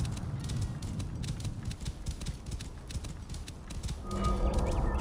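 Horse hooves clip-clop in a steady rhythm alongside a whinny in the video game Assassin's Creed Origins, loud and close in the foreground over game ambience, no talk.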